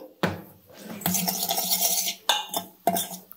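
Spoon scraping and clinking against a bowl while salt is stirred into vegetable-flour dosa batter, a few sharp knocks between longer scraping strokes, close and clear with no voices.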